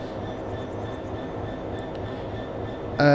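A Class 66 diesel locomotive in Train Sim World 4 rumbles in a steady, unbroken engine drone, with a sudden louder burst of mechanical sound right at the end.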